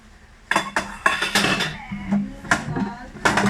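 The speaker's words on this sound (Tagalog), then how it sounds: "Siyempre, pag-uugas, maingay." Pots, pans and cutlery clatter and clink in a sink, with irregular bursts of scraping and knocking up close.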